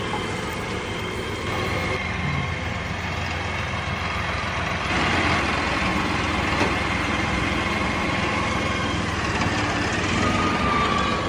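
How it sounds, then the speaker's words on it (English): A farm tractor engine idles steadily at close range, a continuous broadband rumble with no breaks, on a farm where hay is being delivered to goats. "so I have learned how to drive this tractor"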